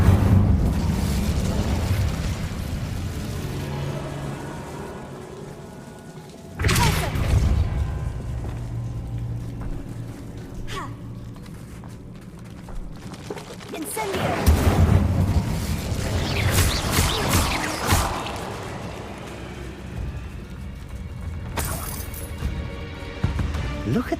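Incendio fire spell blast in Hogwarts Legacy, erupting in sudden booming whooshes inside an old abandoned room, several bursts spread across the scene with a voice speaking between them.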